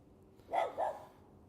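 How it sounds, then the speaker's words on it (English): A dog gives two quick barks in succession, moderately near and fairly loud against a quiet background, with no talking. "Outdoor prepper dog is angry."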